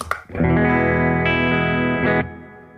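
A single sustained electric guitar chord through a Boss OD-20 pedal rings out with a spacious reverb, followed by a short second strum before the sound decays away.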